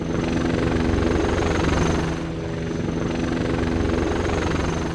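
An AH-64D Apache attack helicopter's rotor thrums steadily and loudly nearby, a constant heavy whir with engine whine that dips briefly before holding steady.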